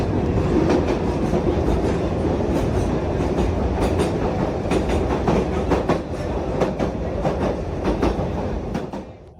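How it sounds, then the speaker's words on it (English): A train rolls along tracks covered by floodwater on the Ferrocarril de Sóller line in Spain, a loud continuous rumble with rhythmic clicking of wheels over rail joints, steady throughout and fading slightly at the end. "The flooding here is just enough to cover the tracks, but not to stop the train."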